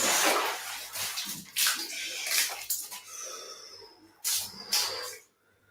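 A person plunges into and stays submerged in a cold water-filled bathtub, giving loud sloshing, splashing and bubbling water bursts in several surges, with brief quiet gaps and a sudden drop to silence near the end.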